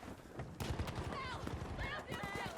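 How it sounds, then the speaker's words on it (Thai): Teammate gunfire in Battlefield V rattles in quick, dense bursts amid battlefield clatter and a horse-like whinny, fairly faint, with a voice talking over it. "เหมือนเพื่อนเรายิงขึ้นไปนะครับ"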